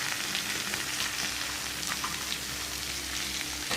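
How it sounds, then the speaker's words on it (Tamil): Curry leaves sauté in a hot pan for a Tamil curry leaf thuvaiyal, giving a steady close crackling sizzle with light stirring throughout and no talk. "அந்த கருவேப்பிலை வந்து ரொம்ப நேரம் வதக்க வேண்டாம்"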